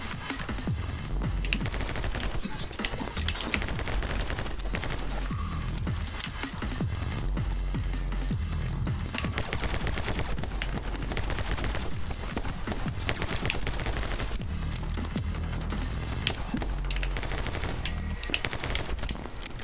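Rapid, dense gunfire fills the video game My Friend Pedro, with loud overlapping shots and bursts cracking almost nonstop over a busy background.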